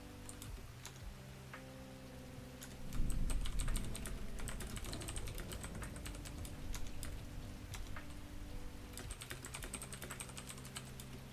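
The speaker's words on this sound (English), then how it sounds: "This is just normal typing." Steady typing on a computer keyboard, with rapid clicky keystrokes in bursts near the start and end, a quieter stretch in the middle, and a low background hum throughout.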